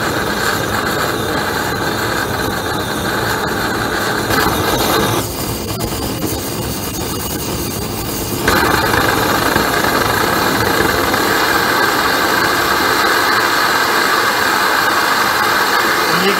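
A propane weed burner torch roars with a steady, loud jet-like rush, shifting in tone briefly midway before settling into an even, stronger blast for the rest of the stretch.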